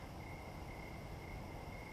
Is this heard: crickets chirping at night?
yes